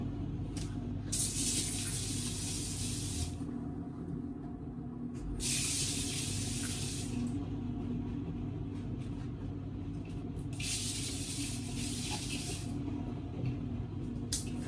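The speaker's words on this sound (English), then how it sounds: "I'm gonna give it a spray on my face." Three bursts of hissing mist spray, each lasting about two seconds, over a steady low background hum.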